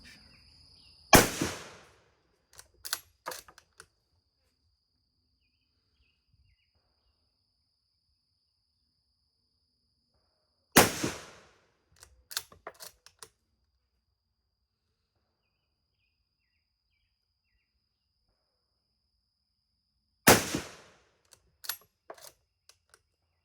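Three sharp, loud reports from a British No4 Mk2 rifle on a range, spaced roughly ten seconds apart, each followed by quick metallic clicks of bolt cycling; a faint steady hum lingers in the quiet gaps.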